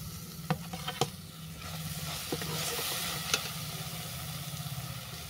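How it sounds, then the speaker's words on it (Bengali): Grated coconut being stirred into hot caramel in a pan for a sweet, giving a close sizzle and scraping stir with a few sharp clicks of the spoon against the pan. "ক্যারামেলটা রেডি হয়ে গেছে। এর মধ্যে দিয়ে দিচ্ছি কোরানো নারকেল।"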